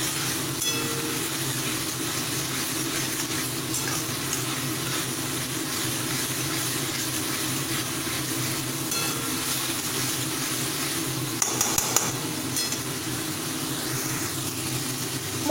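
Spice paste fries over a full gas flame, giving a steady, even hiss that runs throughout, with a brief cluster of scraping stirs near the end.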